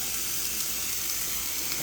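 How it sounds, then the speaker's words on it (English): Ham roll-ups filled with cooked spinach and jalapeno cream cheese browning in a skillet, giving a steady, even sizzle and fry hiss throughout, moderately quiet with no voices. "let's put it on the skillet. We're basically just browning all sides"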